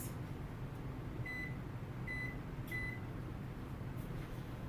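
An oven timer being set for 20 minutes gives three short, high electronic beeps spaced about half a second to a second apart, faint over a low kitchen hum.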